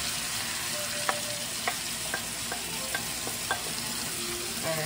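Shrimp and garlic sizzle steadily in a hot pan for a buttery lemon shrimp pasta, with a loud continuous hiss broken by crisp spoon taps and scrapes roughly every half second.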